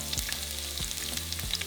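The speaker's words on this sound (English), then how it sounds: "once our oil is hot, we're going to start by frying our onion" Onion and jalapeno fry in hot oil, a quiet continuous sizzle with a few soft stirring thumps, no voices.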